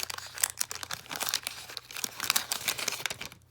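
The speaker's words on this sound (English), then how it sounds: "we'll get to cracking this pack" A 1987 Donruss baseball card wax pack is torn open up close, a busy run of crinkling and tearing wax paper in quick irregular bursts, with no talking.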